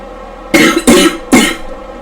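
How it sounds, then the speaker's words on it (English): Three sharp, harsh coughs in quick succession, close and loud, with short pauses between them and no talking. "I still have that stupid cough"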